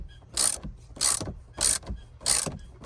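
A ratchet wrench loosens a 10 mm nut on the 12-volt battery of a 2012 Chevy Volt, four loud rasping ratchet bursts in a steady back-and-forth rhythm, close up with no talking.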